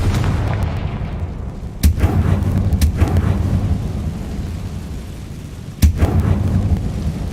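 Magical blasting-spell explosions go off in a game, two sharp booming blasts a few seconds apart over a low rumbling background.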